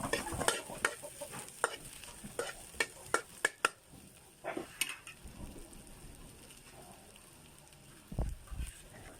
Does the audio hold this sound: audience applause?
no